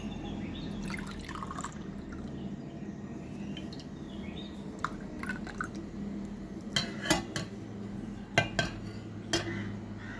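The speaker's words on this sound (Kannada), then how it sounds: "ನಾನೀಗ ಅದನ್ನು ಕುಡಿಲಿಕ್ಕೆ ಅಂತ ಲೋಟಕ್ಕೆ ಹಾಕ್ಕೊಳ್ತಾ ಇದ್ದೀನಿ" Banana stem juice is poured from a jug into a glass, giving soft trickling and dripping with scattered sharp clinks of glass and metal, quiet and close, without any talking.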